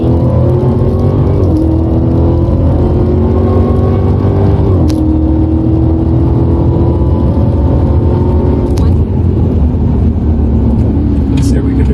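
A 2023 Dodge Challenger SRT Hellcat Widebody Jailbreak pulls hard through its gears, the loud engine note climbing steadily with shifts around two, five and nine seconds, the roar continuous throughout while a voice talks over it.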